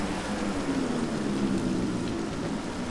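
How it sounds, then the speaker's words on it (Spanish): Heavy rain falls during a MotoGP race in the video game Valentino Rossi The Game, a dense, steady hiss of downpour throughout with no voices over it. "Dios, cómo llueve. Aquí en el MotoGP llueve."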